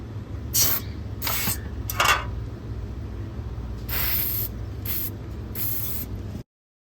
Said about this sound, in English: Then I'm going to spray it with some penetrating oil.